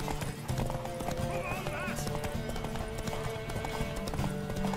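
Galloping horse hooves clatter in fast, continuous rhythm through a race in The Witcher 3, with a horse whinnying and voices talking over the hoofbeats.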